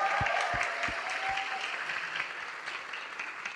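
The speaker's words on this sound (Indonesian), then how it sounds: "Beri tepuk tangan sekali lagi untuk mereka semua" Audience applause after a youth summit talk, steady dense clapping from a crowd at moderate volume, with a few low thumps near the start and a faint tone running underneath.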